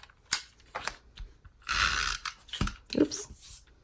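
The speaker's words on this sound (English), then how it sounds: "I'm going to use our SNAIL adhesive." A SNAIL adhesive tape runner clicks and ratchets as it lays adhesive onto a 3.25 by 4.5 inch card, in several short bursts of ticking with brief gaps, close up.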